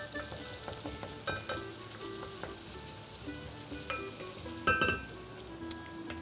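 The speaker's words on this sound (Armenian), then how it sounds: "գազարը տապակելու ենք սոխի հետ միասին, բայց մի քիչ սոխը տապակելուց հետո" Carrots frying together with onion in a pan, a close steady sizzle broken by scattered crackles, pops and the scrape of stirring.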